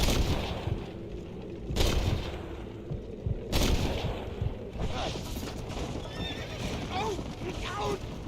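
Horse neighs and clopping hooves in the Western video game Red Dead Redemption, with several whinnies and sharp bursts like gunfire amid talking, fairly close and prominent.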